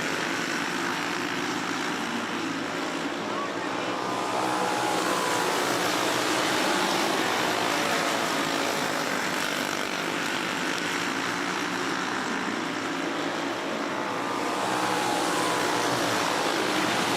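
Racing go-karts drone around the Forks Karting Speedway oval, their engines blending into a constant, fairly distant whine that rises and falls gently as the pack circles, with no voices.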